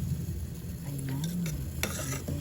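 Robusta coffee grounds, about two spoonfuls, stirred into heating water in a pot, with a quick scraping stir and a light clink of a spoon over a soft steady simmering hiss, brief and close.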